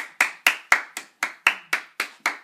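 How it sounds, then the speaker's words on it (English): Hand claps from an audience after a candidate's speech at a government-themed event, nine sharp separate claps in a slow, fairly even rhythm, close and loud with nothing else under them. "Round of applause for Moulton Curfee, everyone."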